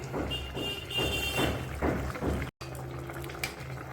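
Cauliflower and potato curry bubbling in a pot on the stove, a close, thick burbling simmer with rhythmic gloopy pops, briefly cut off before a quieter hum resumes, no voices.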